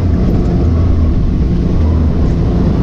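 A 200 horsepower 2021 Can-Am Maverick X3 X rs Turbo RR side-by-side being driven on a dusty trail, its engine a loud, continuous, deep roar with a steady rumble and no breaks.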